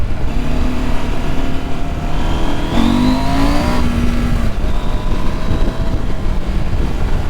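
A Husqvarna Norden 901 motorcycle accelerates hard, its engine note climbing and rising in pitch through gears, loud and close over heavy wind rush that stays constant throughout.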